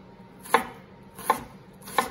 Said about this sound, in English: And we're gonna cut this long ways now.